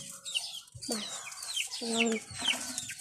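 Hen clucking close by in short, rhythmic bursts, with high chirping from other fowl mixed in; no talking.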